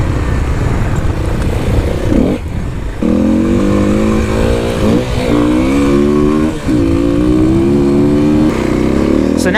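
2021 Kawasaki KLX300 dual-sport motorcycle being ridden, a loud buzzing single-cylinder engine close up, with the revs climbing and falling through several gear changes and two brief dips in throttle.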